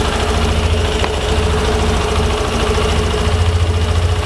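A car engine idles steadily at about 1600 to 1700 RPM, a constant close mechanical hum with a faint rhythmic pulse and no voices.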